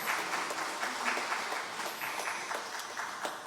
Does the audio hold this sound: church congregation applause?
yes